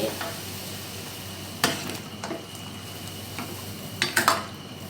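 Pork-based nam ngiao broth simmers in a pot as a steady, even bubbling hiss. Occasional metallic clinks of a utensil against cookware break through, with a small cluster of them near the end.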